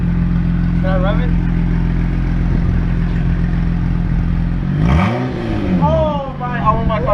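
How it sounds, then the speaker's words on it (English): A lowered Honda Accord with an E6 engine, open headers and no catalytic converter idles loudly, then revs sharply once. People talk and exclaim excitedly over the engine. "That's what an open header E6 sounds like."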